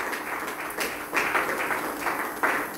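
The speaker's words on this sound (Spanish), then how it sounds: "Dale un aplauso al Señor Jesucristo." A church congregation at a Spanish-language service claps, a brief burst of moderately distant applause with uneven swells.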